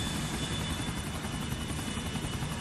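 An EC145 police helicopter's rotor drones in a flight game, a dense steady whirring roar holding at even loudness with no voices.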